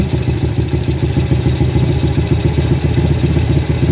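A Honda Grand motorcycle engine runs loud and close during carburetor adjustment, its steady rapid clattering pulse holding at an even level with no clear rise in pitch.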